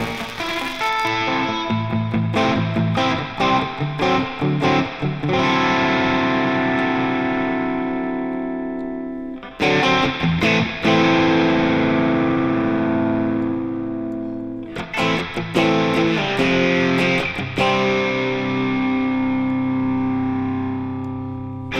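Simulated tube lead guitar tones from Amplitube 5, including a British tube lead and Soldano-style amp, played with reverb switched on: loud, dense sustained chords and notes in three bursts with brief gaps, ringing tails, no talking.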